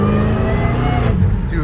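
A Dodge Hellcat Redeye with its valve muffler open revs loudly and close, a continuous deep engine roar holding strong for under two seconds without a break.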